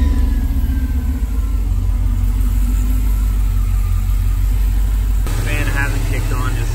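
A Dodge Dakota fitted with an electric fan conversion runs with a steady low rumble heard close up, and the tone shifts suddenly partway through as the fan seems to kick in.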